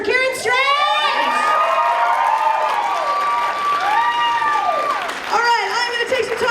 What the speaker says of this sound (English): Can we give another round of applause for Kieran Strange?